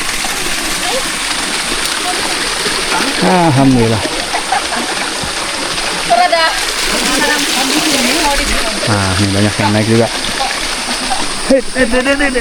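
Rushing river water flows steadily and loudly throughout on a mountain trail, with people talking over it.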